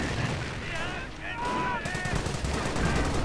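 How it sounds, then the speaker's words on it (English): Bren gun machine-gun fire in a WWII strategy video game, with rapid bursts and scattered battlefield shots crackling over a dense, continuous mix of combat noise and game sound. "Bren guns firing in response at the British troops feeling a bit of their own medicine."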